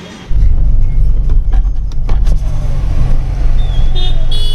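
An old left-hand-drive car rumbles past on a rainy road, a loud steady low engine and tyre roar that swells in after a brief quiet start and holds throughout.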